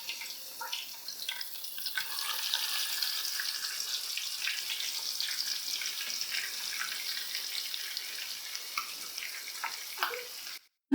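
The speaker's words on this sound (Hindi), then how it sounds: "अब हम चिकन को ऑयल में शामिल कर देंगे।" Chicken pieces dropped into hot cooking oil for Lahori chargha, giving a steady, moderately loud hiss and crackle of sizzling that runs evenly throughout before cutting off at the end.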